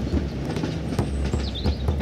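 A cartoon toy train reverses with a steady rumble and repeated rhythmic clickety-clack wheel knocks, fairly close and continuous with no talking.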